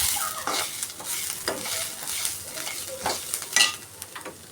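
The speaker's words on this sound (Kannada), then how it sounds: "ಇವಾಗ ನಾನು ಸ್ಪೈಸಸ್ ಹಾಕ್ತೀನಿ. ಇದನ್ನು ಸ್ವಲ್ಪ ಲೈಟಾಗಿ ಫ್ರೈ ಮಾಡ್ಕೋಬೇಕು" Spices fry lightly in a hot pan for an egg masala gravy, a soft sizzle broken by repeated stirring scrapes of a spoon; no talking.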